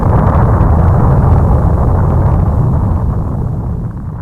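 A single heavy explosion sound effect roars as a loud, deep rumbling blast that holds dense and steady, then slowly fades over a few seconds without speech.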